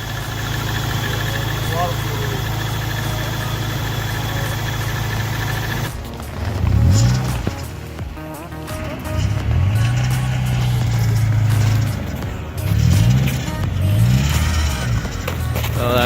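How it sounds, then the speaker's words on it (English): Rallycross racecar engine idling steadily with a faulty, whining power steering pump, a continuous low drone running throughout while bursts of speech come in during the second half. "that power steering pump's not happy"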